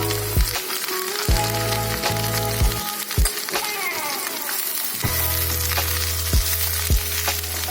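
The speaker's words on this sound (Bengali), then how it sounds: "এগুলো একটু ভেজে নেবো।" Eggplant, green banana and sweet potato frying in a pan, a steady sizzle broken by sharp clinks and scrapes of a utensil stirring the pieces.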